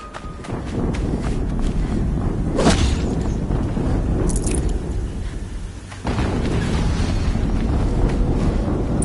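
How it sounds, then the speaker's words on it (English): Dense, rumbling game audio from Horizon Zero Dawn in a snowy area, with a sharp burst partway through that could be another explosion over steady loud noise. "Another explosion."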